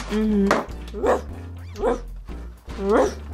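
A human voice imitates an angry dog barking, producing four gruff, close bark-like bursts with short pauses between them.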